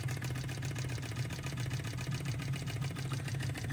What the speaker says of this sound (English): So this is a beautiful little engine.